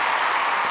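Audience applause at a Sun TV stage show: a steady, dense wash of many hands clapping, moderately loud and continuous through the short stretch, with no voices on top.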